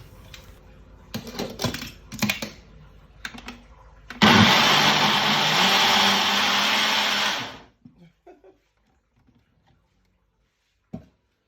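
A few clinks and taps, then a power blender mixing lemon cake batter whirs loudly for about three seconds before spinning down into quiet.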